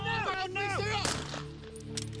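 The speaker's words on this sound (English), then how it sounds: "Shots fired! Shots fired!" Loud gunshot crack during an armed police training scenario, a single sharp blast cutting through shouting voices, followed by ringing and a fainter second report.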